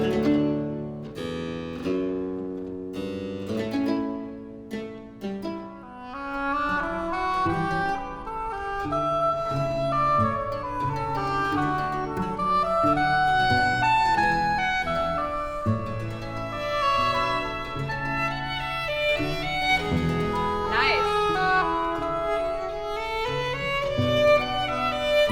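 Baroque keyboard basso continuo chords sound over a cello bass line, a continuous ensemble passage with sustained bass notes and rippling keyboard harmonies at steady moderate loudness throughout, with no voices.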